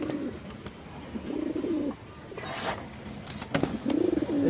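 A pigeon kept by a Bangladeshi fancier coos in several soft, low rolling phrases close by, with faint background noise between calls.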